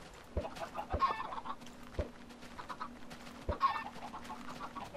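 Minecraft chickens clucking in a farm pen, short repeated clucks and squawks at moderate volume with occasional sharp clicks, no talking.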